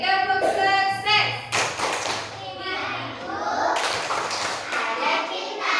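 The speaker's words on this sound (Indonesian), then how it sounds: "kita tepuk sukses dulu ya" A class of children does a rhythmic success clap, sharp hand claps and taps landing in patterned beats while young voices chant along in sing-song unison, all close and loud.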